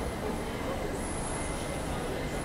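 A late-night airport train at a station gives off a steady, even rumble and hiss that holds at a constant level throughout, with no talking.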